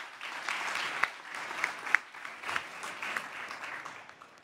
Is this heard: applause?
yes